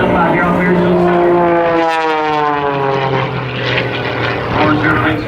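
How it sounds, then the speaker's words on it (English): Aerobatic propeller airplane carving loops and rolls over an airshow field, a loud droning engine whose pitch sweeps up and down with a Doppler shift as it passes close overhead, a commentator talking over it. "as you watch Spanky fly the airplane around, stepping on a lot of rudder there"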